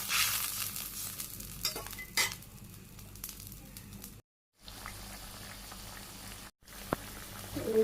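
Broth with vegetables for a village-style puti fish curry with mola fish cooks over a fire, giving a faint, even bubbling sizzle with a few soft clicks, cut twice by brief dropouts, and no voices.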